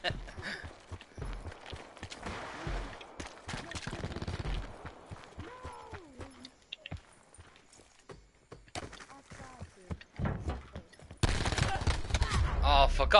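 Pistol gunfire in Call of Duty Blackout: scattered sharp game shots mixed with footsteps and other battle noise across the stretch, with someone talking over much of it and a louder burst of action near the end.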